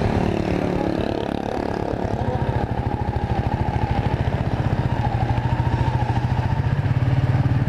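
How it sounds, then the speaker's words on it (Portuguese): A Royal Enfield Meteor 350 motorcycle engine idling close by, a steady low throbbing putter with fast, even pulses that grow more distinct and slightly louder toward the end. "Aqui ligamos a moto."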